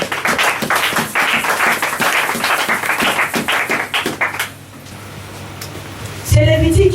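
A church congregation breaks into steady, dense applause that carries for several seconds before fading, followed by a voice speaking alone.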